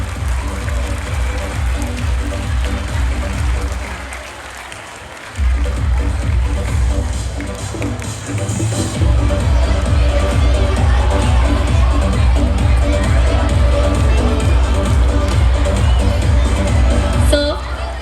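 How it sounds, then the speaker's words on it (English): An audience applauds and cheers at a school Founder's Day celebration, loud sustained clapping with crowd noise and children's shouts that dip briefly, then swell back fuller and continue steadily. "Let's have a thunderous applause for our Honorable Chairman Dr. Mohan Magnani"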